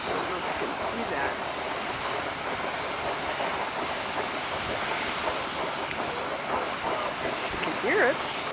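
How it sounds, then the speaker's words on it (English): A Montana geyser bubbles and churns, a steady, dense rushing hiss with low rumble that holds evenly throughout, and a brief voice near the end. "It's really bubbling."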